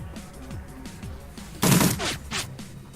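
Gunfire in the video game Shadowrun Returns: a rapid series of sharp shots, with a louder burst of several close blasts partway through over steady game background sound.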